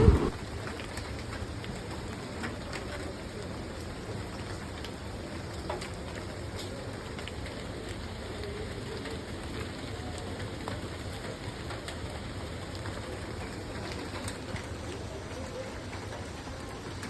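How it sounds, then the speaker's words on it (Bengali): Steady rain falling beside Mahamaya Lake, a continuous soft wash of drops at an even level throughout, with faint bird calls at times and no speech. "এই বৃষ্টির মধ্যে লেকের পারে আধা ঘন্টা বসে থাকাটাও একটা আল্লাহর ব্লেসিং"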